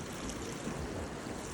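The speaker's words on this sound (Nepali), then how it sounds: "यस्तो पानी यहाँ कलकल" Water babbling past village farm fields in a steady, close, continuous gurgle with no voices.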